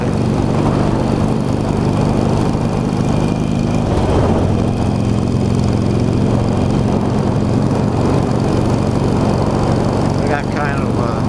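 Motorcycle engine droning steadily throughout a ride, loud and close with continuous low rumble and wind noise, the pitch holding fairly constant with a brief dip midway.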